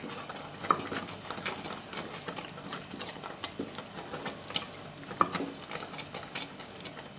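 Mango pachadi being stirred in thickening jaggery syrup, heard as a soft, steady series of scraping and sloshing strokes of a spoon in a pot, close but fairly quiet, with no talking.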